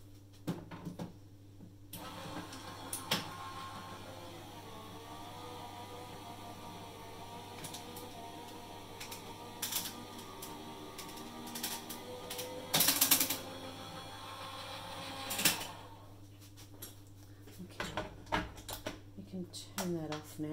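A hot foil laminating machine hums steadily as an ink-blended card with foil runs back through its rollers, with a few sharp clacks and rattles near the start and end; a voice speaks quietly at times.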